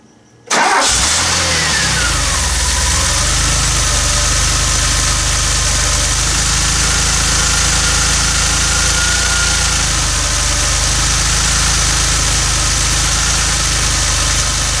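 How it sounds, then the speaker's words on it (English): A DeLorean DMC-12 with a V6 PRV engine cranks and fires within the first second, then settles into a loud, steady idle close by for the rest of the time, with no talking. "so we'll go ahead and start up the car."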